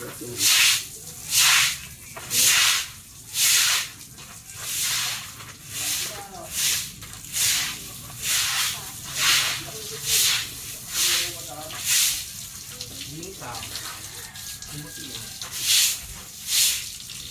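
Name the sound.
water spraying while washing a cattle pen floor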